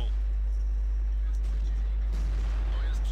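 A single heavy tank gun boom in World of Tanks, with a low rumbling tail and some faint background noise.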